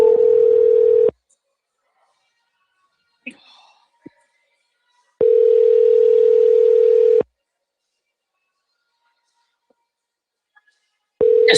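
A voicemail greeting's steady electronic beep tone sounds three times, each a clean sustained pitch, the middle one lasting about two seconds, with near silence and faint clicks between.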